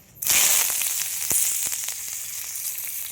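Curry leaves, three sprigs, hit hot oil for a chicken curry and burst into a loud, steady sizzle with a few sharp crackles and pops.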